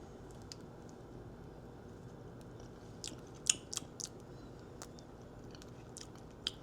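Soft, close chewing and biting of fresh homemade bread spread with homemade butter, a few small crunchy bites standing out over a quiet room background with no talking.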